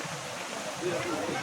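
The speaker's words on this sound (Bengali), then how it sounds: "যাওয়ার পথে একটি নালা দেখা যাচ্ছে, এটা নিশ্চয়ই কোনো পাহাড়ি ঝর্ণা থেকে আসা জল" Mountain stream water flowing beside a steep hillside path, a soft, continuous rushing wash heard faintly from close by for a brief moment.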